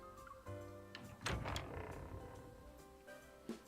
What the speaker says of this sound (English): Seeing my hesitation, she shrugs and opens the door.